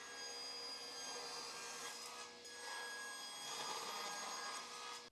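A saw fitted with a 24 tooth ripping blade cuts through wood, a sustained high-pitched whine and rasp running evenly for several seconds, dipping briefly midway before stopping abruptly at the end.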